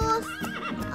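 A zebra-like horse gives a brief, close whinny with a wavering pitch rise and fall, lasting about a second.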